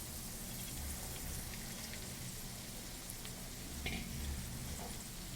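Sabudana tipped into potatoes frying in a pan sets off a faint, steady sizzle heard up close, with a brief knock or shuffle of the grains partway through and no voices.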